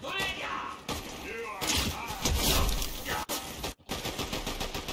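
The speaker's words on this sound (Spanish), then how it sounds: "¿Dónde están disparando?" Video game gunfire crackles in rapid bursts and thuds, loud and dense, with a voice talking over parts of it.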